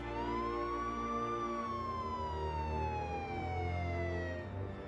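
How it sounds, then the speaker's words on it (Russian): Emergency sirens wail close by in a forest, a rising and falling electronic tone over a deep vehicle rumble, loud and continuous without voices. "Словно в ответ на его слова совсем близко послышался звук сирен."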